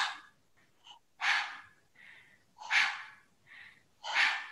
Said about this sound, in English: And then I want you to use the navel to push the breath out.